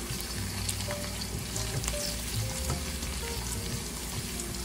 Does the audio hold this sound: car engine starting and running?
no